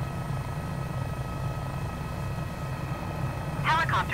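Steady low turbine drone of an AS350 helicopter in Microsoft Flight Simulator runs throughout at constant loudness, with a brief radio voice breaking in at the very end.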